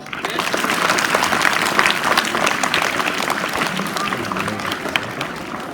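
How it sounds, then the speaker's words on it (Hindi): An audience of school students and staff applauds after a yoga dance at a National Sports Day celebration, a steady, dense wash of clapping from many hands throughout. "एक बार पुनः तालियां हो जाए।"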